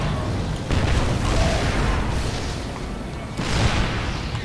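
Marines open intense fire in a StarCraft II: Heart of the Swarm battle, a dense continuous barrage of rattling shots and booming impacts, loud and unbroken, with surges in intensity.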